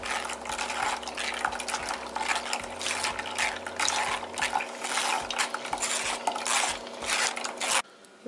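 Homemade pomegranate juice is strained, with continuous close clinking of metal and dishware over a steady wet, liquid background.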